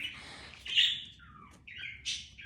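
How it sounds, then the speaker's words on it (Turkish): Birds chirping and singing outdoors, a handful of bright separate calls and trills at moderate distance against a quiet background, with no talking. "Kuşlar da ötüyor zaten."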